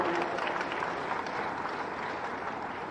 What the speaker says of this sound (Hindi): सुरेश चौहान जी के लिए भी जरा जोरदार तालियां बजाएं